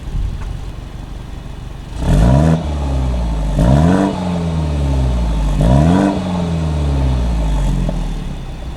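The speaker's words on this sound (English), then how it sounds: "So now it's gonna be 3 revs in comfort and then a takeoff from a dig." A BMW F30 330i fitted with an OEM 340i dual exhaust revs sharply three times, each rising whine falling back to idle, then launches from a standstill with a loud accelerating engine note, all close and without talk.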